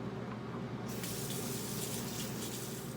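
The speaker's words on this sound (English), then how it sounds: "I'm going to just wash my hands first." Water streams steadily from a bathroom tap into a sink during handwashing, a continuous close splashing rush that grows brighter after the first second, with no talking.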